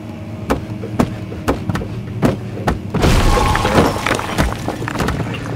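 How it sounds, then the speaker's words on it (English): A window is broken to free a chair in the video game Amnesia, with a series of hard wooden thuds followed by a loud, crashing explosion and a rumbling, debris-filled burst that lingers. "I didn't expect removing a chair from a window would cause an explosion"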